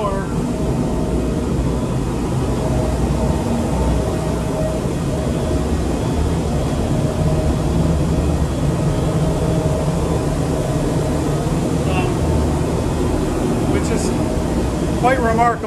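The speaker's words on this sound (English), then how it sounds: "But here we have the main blower." The main blower of a church pipe organ runs as a loud, steady mechanical roar and hum that fills the whole stretch, with faint clicks and a brief squeak near the end and no break in the drone.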